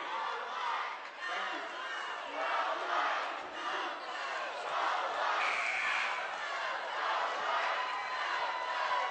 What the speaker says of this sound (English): A lot of girls varsity players cheering on their boys.